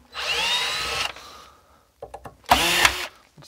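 A cordless power tool backs screws out of the fan assembly on a Nokia Siemens 3G Flexi 2100MHz amplifier. It gives a loud, close whirring burst, then short clicks, then another whir.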